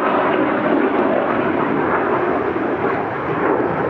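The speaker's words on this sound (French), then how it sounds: "les avions de chasse, ça fait toujours un petit peu de bruit" Fighter jets fly overhead with a loud, broad, continuous roar that holds steady throughout and drowns out everything else, with no speech heard.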